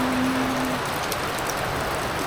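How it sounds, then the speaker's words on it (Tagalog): Heavy rain pouring down steadily, a dense, even hiss of drops on surfaces close by, continuous throughout with no voices over it. "Ulan na dito sa amin."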